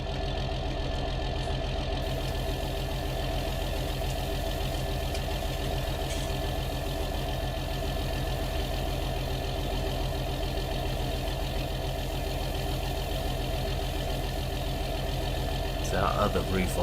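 A John Deere 6020/7020 Premium tractor engine in Farming Simulator 19 runs at a steady idle, a loud, even mechanical drone throughout with a faint rattle near the end.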